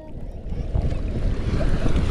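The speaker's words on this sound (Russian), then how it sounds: "Волна идет." An ocean wave rolls in at a Sri Lanka surf spot, a steady, rising rush of surf that swells over 2 seconds, mixed with wind noise on the microphone.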